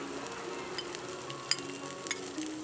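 Cumin seeds, finely chopped ginger and garlic sizzle in hot oil as a steady close hiss. Faint clicks of stirring come through now and then.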